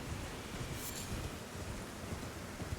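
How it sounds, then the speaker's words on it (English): Steady rain hisses across an open landscape in the video game Elden Ring, a dense, even wash of falling drops with low rumbling underneath and no voices. "Oh, it started raining."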